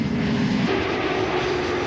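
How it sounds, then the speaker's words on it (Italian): A fixed-wing airliner readies for takeoff, its engines giving a steady, loud broadband roar with a low droning tone that shifts slightly partway through, continuous and fairly close, with no voices. "Quell'aereo si sta preparando al decollo."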